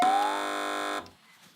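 A quiz show buzzer on a British panel comedy programme gives a single loud, sustained electronic tone lasting about a second, then cuts off abruptly into quiet studio ambience.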